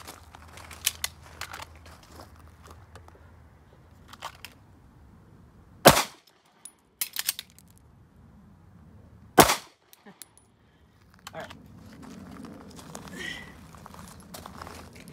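Pistol shots from a Dot Torture shooting drill ring out as a few sharp, loud cracks spaced several seconds apart, with quiet handling noise and faint talk between them.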